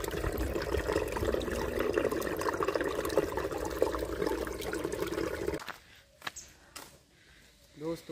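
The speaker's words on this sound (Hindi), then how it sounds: "आवाज सुनो पानी की।" Water rushes steadily for several seconds at the Naldeshwar shrine in Alwar, Rajasthan, then the flow drops away and a person speaks in a quieter space.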